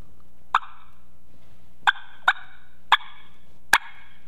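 A wild turkey outdoors gives five sharp, separate clucks and putts, spaced about a second apart, each short and distinct against a quiet background.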